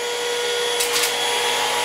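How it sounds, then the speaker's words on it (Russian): A Midea cordless stick vacuum cleaner runs with a steady, loud, high-pitched whine and airy rush, holding constant throughout with a brief shift in tone partway through. "После того, как вы пропылесосили, вам нужно поставить вот так вот на стопор пылесос."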